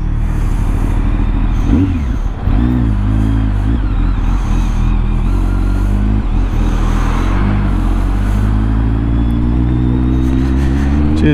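BMW K1200R sport motorcycle engine revving loudly through its exhaust, a continuous close, heavy rumble with rising and falling throttle swells.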